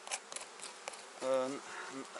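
Honeybees buzz around a hive frame during spring nest expansion, a soft steady hum with a brief louder drone as a bee passes close, plus faint handling noises.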